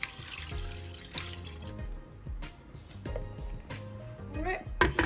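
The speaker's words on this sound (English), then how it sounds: "and then I'll add some water" Water pours and splashes into a cooking pot with spices, ginger and garlic for mutton pilau rice, a close running stream with clinks, while a person talks over it.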